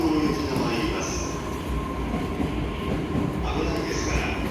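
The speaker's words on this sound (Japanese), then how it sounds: "まもなく3番線に快速東京行きが参ります。" A JR East E235 series rapid train pulling into Funabashi Station during evening rush, a steady loud rumble of wheels on rails with faint squealing, under station announcements.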